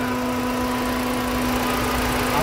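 A BMW E90 engine idles with heavy vibration and an overheating fault, giving a constant, close drone with a steady hum that holds evenly throughout, with no voices.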